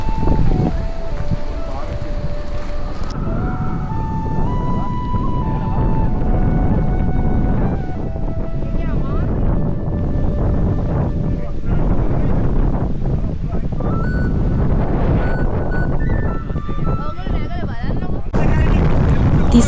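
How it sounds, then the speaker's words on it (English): Strong, cold wind rushing through a mountain corridor between ridges at Riverston, Sri Lanka: a constant loud roar buffeting the microphone, with a voice talking over it. "strong and cold winds rush through almost constantly, especially in the early mornings and evenings."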